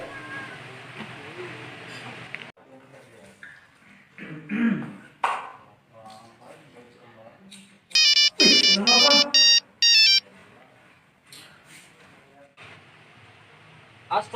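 A phone ringtone sounding during an outgoing call in a Sundanese comedy film, a loud bright melodic ring lasting a couple of seconds in the middle, with speech and other noises before and after.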